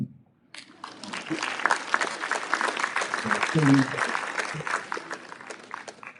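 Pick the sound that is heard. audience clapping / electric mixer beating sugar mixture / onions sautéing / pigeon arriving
audience clapping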